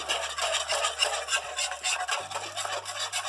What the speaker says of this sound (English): Just keep whisking it until it gets thick.